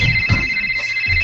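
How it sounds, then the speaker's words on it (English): A telephone rings on a call placed to reach someone: a steady electronic ringing tone with bright, sustained pitches, heard close and alone for just over a second. "Let's call her. It's ringing."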